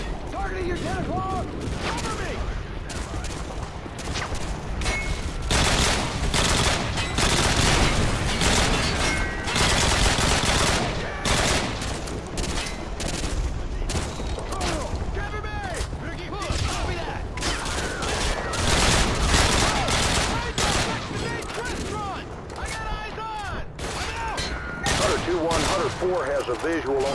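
Dense, continuous machine gun fire and overlapping gunshots in the video game Call of Duty: Modern Warfare 2, rapid bursts layered with explosions and radio chatter from voices.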